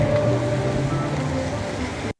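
Choppy ocean surf at Atlantis beach on Paradise Island, Nassau, Bahamas, whipped up by strong wind: a steady, full wash of breaking water and wind rumble, with no talk.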